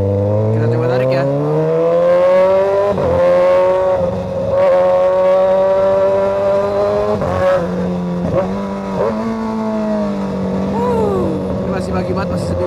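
A 2013 Kawasaki ZX636 sport motorcycle with an SC Project exhaust accelerates hard, its engine note rising through several gear shifts with brief dips between them, loud and close on a quiet morning road.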